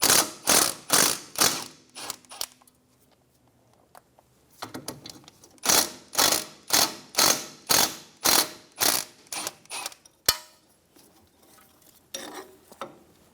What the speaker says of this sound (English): Remove the 2 10mm bolts for the brake line bracket.